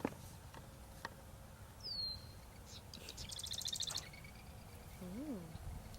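Birds give sparse, thin chirps and a quick trill outdoors on a nature walk, scattered over a few seconds against soft background noise, with brief quiet vocal sounds in between.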